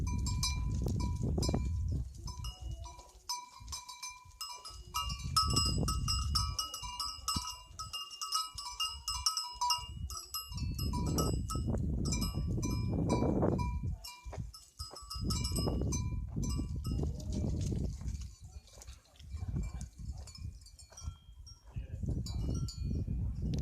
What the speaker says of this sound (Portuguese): Mostrar aqui as cabras,